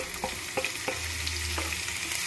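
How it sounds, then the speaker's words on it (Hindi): Chilies, ginger and cumin fry in a pan with a continuous close sizzle, broken by a few soft spoon scrapes and taps as the mix is stirred. "सब भून लेंगे।"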